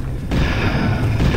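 A single heavy gunshot boom in the horror game Lone Survivor, loud and close, with a sustained low rumble trailing after it.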